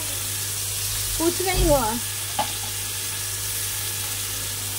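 Hot oil in a pan sizzles at close range where amudi fish has been fried, a steady hiss under a brief spoken remark.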